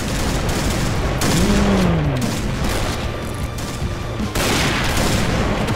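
Gunshots in the online shooter Point Blank with a PSG1 rifle, a loud, dense wash of gunfire and blasts filling the whole stretch at close range.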